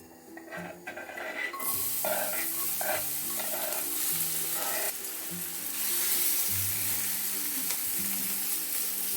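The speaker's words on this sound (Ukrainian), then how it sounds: "Натираю морквину, підсмажу їх на пательні і вкину до фаршу." Chopped onion and grated carrot sizzle steadily in a frying pan, interrupted by a few scraping stirs of a utensil. The frying crackle is close and continuous, with no voices over it.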